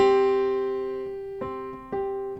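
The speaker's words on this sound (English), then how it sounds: "that's the sound of a fifth" Two sustained tones a fifth apart sound together and slowly fade, with a couple of soft knocks partway through.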